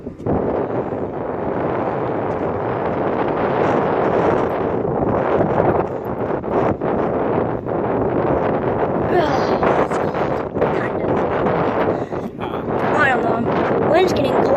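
Wind at the Springfield-Branson National Airport rumbles and buffets the microphone in a loud, continuous roar, with people talking intermittently over it.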